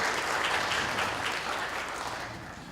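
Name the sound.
audience applause at a conference opening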